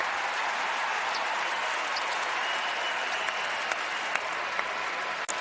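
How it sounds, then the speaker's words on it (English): North Carolina crowd at a college basketball game, UNC versus Duke, giving a sustained round of applause, a dense steady wash of clapping with a few sharper claps standing out. "getting a well-deserved round of applause from this North Carolina crowd"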